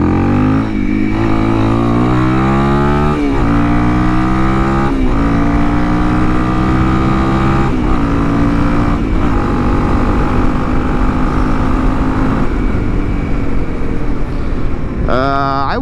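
A Honda CRF 300L motorcycle with a 550Performance ECU tune is ridden hard. The engine roars loud and close, and its pitch climbs repeatedly through several gear changes in one continuous run.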